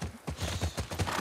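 Horse hooves clip-clop in a quick, steady rhythm, close and clear, with no talk over them, from horses in the video game The Last of Us Part 2.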